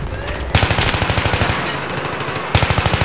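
Rapid automatic gunfire in Battlefield 3 during a 4v4 squad Rush match, with dense repeating bursts loud and close, a brief lull in the middle before firing resumes.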